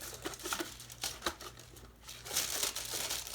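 Reynolds Wrap aluminum foil being crinkled and handled up close, a run of sharp crackling rustles coming in short bursts, fairly quiet with no voices over it.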